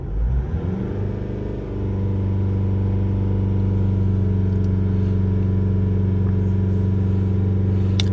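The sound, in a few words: car engine revving around 3000 RPM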